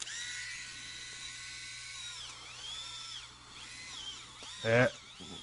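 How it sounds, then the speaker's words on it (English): Small electric pedicure device smoothing callus and bunions on a foot, giving a steady thin whine that dips and bogs down, close by, with a louder burst near the end. "I'm about to turn on the nano micro petty and give myself a pedicure"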